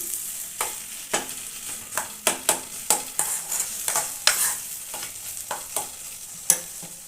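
Brinjal with coriander stirred in a hot tempering, a spoon scraping the pan in irregular strokes over a steady, soft sizzle of frying oil, close by with no talk.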